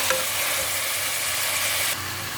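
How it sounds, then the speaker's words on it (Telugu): Chopped tomato sizzling loudly in a pan of fried onions, a dense, steady frying hiss with stirring throughout that eases slightly in the last moments. There is no speech. "ఆనియన్స్ వేగాక టమాటా వేస్తున్నాను"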